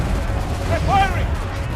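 A musket volley cracks and rumbles across a battlefield in Assassin's Creed III, a brief, heavy burst of gunfire under a shouting voice that rises midway.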